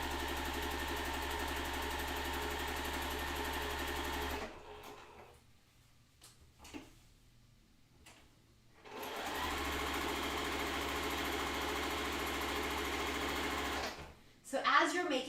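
Sewing machine stitching half square triangles for a quilt, a steady loud motor whir that runs, stops for a quiet pause with small handling noises, then resumes before cutting off.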